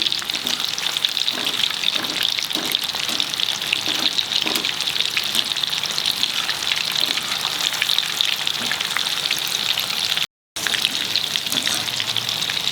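Fish fingers fry in hot oil over a medium flame, giving a continuous close sizzle and bubbling crackle with a few soft clunks early on and a momentary break near the end.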